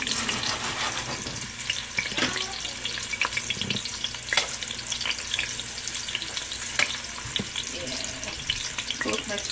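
Onions fry in about two tablespoons of palm oil with a dense, steady sizzle and crackle. Light stirring scrapes recur throughout and there is no speech.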